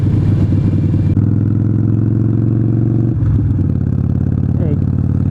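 Loud, steady engine drone and wind roar from a motorcycle ride, heard from inside a Bilt Techno 2.0 helmet, with a continuous low engine hum and rushing wind and a brief shift in tone midway.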